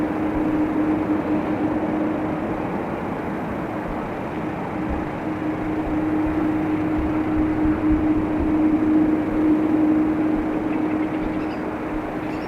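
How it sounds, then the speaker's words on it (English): An ATR turboprop airliner at Dublin Airport drones steadily at a distance, a continuous hum with a sustained propeller tone that swells slightly toward the end. "And now another ATR to Edinburgh."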